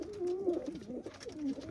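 A pigeon coos nearby in low, wavering, drawn-out calls, two or three soft bursts rising and falling over a quiet background.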